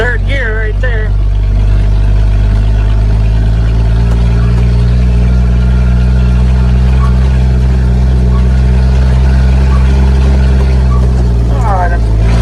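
An International Harvester L-130 truck runs in third gear with a loud, steady low engine drone and constant rumble from up close. A voice speaks briefly at the start and again near the end.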